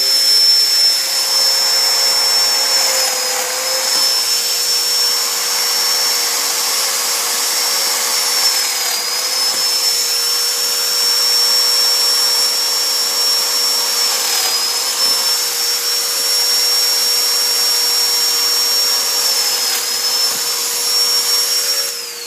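A Festool Domino joiner runs continuously while cutting slots in wood panels, a loud steady high motor whine with a vacuum-like rush and slight dips in pitch as it plunges.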